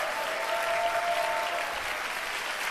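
An audience applauds the finalists at a contest final, a steady, dense wash of many hands clapping that holds evenly for a few seconds and is heard alone.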